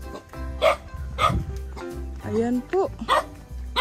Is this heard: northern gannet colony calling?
no